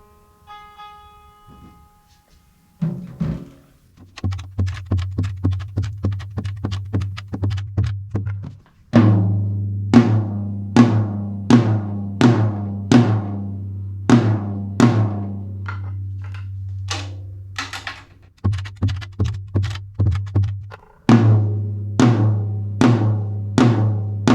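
A 12-inch tom drum struck repeatedly during tuning, a sequence of resonant pitched hits with ringing decay, some in quick groups and others spaced apart, close and loud with no talk.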